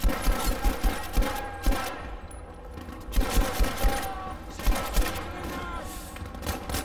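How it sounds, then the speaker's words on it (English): A French machine gun in the shooter game Battlefield V fires in bursts of rapid shots over a dense battlefield din, with the rattling volleys repeating close and loud. "I think this French machine gun is not too shabby"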